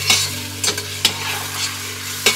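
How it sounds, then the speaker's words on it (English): Lamb browning briefly in a pan for a Kashmiri aloo gosht curry, with a steady close sizzle broken by several sharp scraping stirs; no talking. "By brief I mean browning until there's colour, but not until it's kind of crusty and caramelised."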